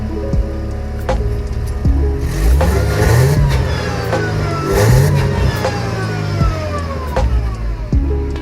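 A supercharged Mercedes W202 fitted with stainless steel headers revs hard several times, the engine note rising and falling in loud, close blips with supercharger whine over the exhaust.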